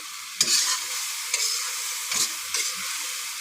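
Potatoes stir-fried in a pan with cumin and ginger paste give a steady, close sizzle, with four sharper scraping stirs spaced through the few seconds.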